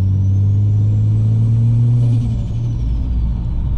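Ford Falcon FG XR6 Turbo engine, a loud deep sustained rev that climbs in pitch and then drops back toward idle, heard close with no talking.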